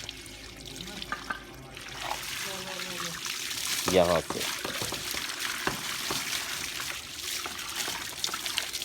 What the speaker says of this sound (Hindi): अगली टांगों के बीच में पानी मारना